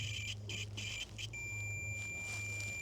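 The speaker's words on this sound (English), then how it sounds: "you might be able to hear multimeter buzzing" A multimeter's continuity buzzer beeps in a series of short, evenly spaced tones while a car's wiring is checked. It then settles into a sustained high tone, close and clear over a low background hum.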